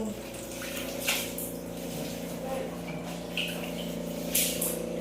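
Water splashes and pours in short bursts inside a home being cleaned, with brief louder gushes over a steady background hum.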